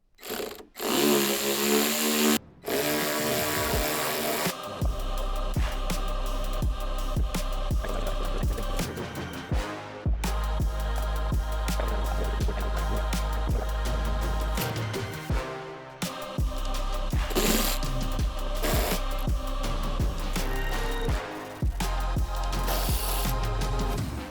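A power tool runs in long steady bursts, pausing between them, while screws are removed to take apart the rear spoiler of a Porsche 911 Turbo S; loud and close, no talk.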